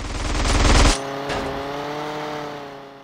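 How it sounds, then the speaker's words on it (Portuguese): A loud, dense burst of rapid automatic gunfire in GTA San Andreas Definitive Edition cuts off after about a second, leaving a steady humming vehicle engine. "Os tiros vão tudo doido, cara"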